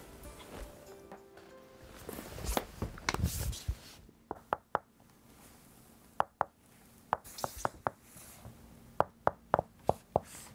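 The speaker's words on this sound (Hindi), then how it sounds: "ये साउंड गैंगम स्टेशन पर सैमसंग की बिल्डिंग में ज़मीन पर लकड़ी नहीं बल्कि दरवाजे पर दस्तक की आवाज़ है" Knocking on a door in a Samsung building at Gangnam Station, recorded as a phone tap sound: soft rustling at first, then sharp, faint knocks in short clusters, close and dry.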